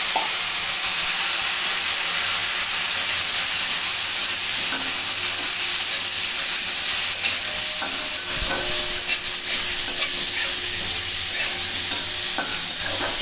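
Potato pieces fry in hot oil with whole cumin and dried red chili, giving a steady, bright sizzle with light stirring scrapes throughout.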